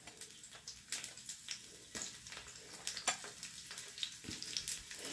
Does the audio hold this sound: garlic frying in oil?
yes